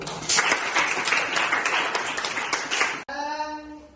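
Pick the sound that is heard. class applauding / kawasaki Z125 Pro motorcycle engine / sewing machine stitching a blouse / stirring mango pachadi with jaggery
class applauding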